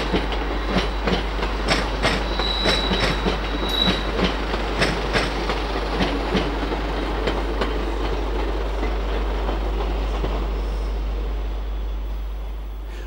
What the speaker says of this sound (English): Here we see a Class 158 Sprinter coming off the Scarborough line.